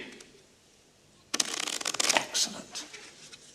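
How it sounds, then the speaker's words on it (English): A deck of playing cards is riffled and shuffled up close at a live magic show, a sudden burst of rapid fluttering card snaps after a quiet start, then trailing off into softer handling. "So we've got a deck of cards. Could you shuffle them for me?"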